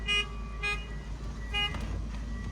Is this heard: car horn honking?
yes